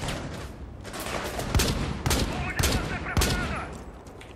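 Gunfire in the video game Rainbow Six Siege: several sharp, loud shots crack out at irregular intervals over a low, rumbling game background, with a faint voice now and then.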